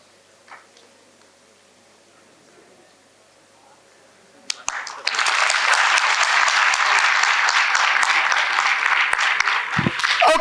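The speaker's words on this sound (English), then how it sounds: "the last clap what we heard is what we expect from you when the speakers are" Audience applause at a youth conference panel discussion, starting abruptly after a quiet stretch with a single early tap, then swelling into loud, sustained clapping from a large crowd that carries on to the end.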